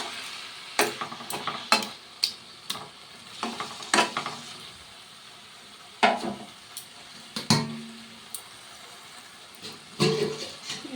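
A curry is stirred and mixed in a pan, giving a series of close, irregular scraping and clattering spoon strokes over a faint sizzle, with short pauses between bursts.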